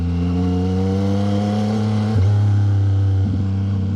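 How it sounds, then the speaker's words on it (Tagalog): A Yamaha MT-09 SP three-cylinder motorcycle engine idling with a deep, steady hum, then briefly revving up and settling back down, close and loud. "Sarap talaga pakinggan kapag 3-cylinder makina mo, no? Buong buo eh."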